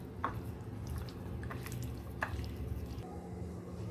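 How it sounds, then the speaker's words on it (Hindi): Chicken pieces being mixed by hand with marinade, giving soft wet squishing and a few brief drip-like squelches over a low steady background hum, with no talking. "अब इसको अच्छे से मिक्स कर देंगे।"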